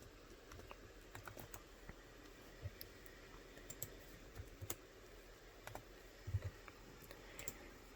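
A name is typed on a computer keyboard in a quiet room, a sparse run of soft, irregular key clicks close by with brief pauses between them.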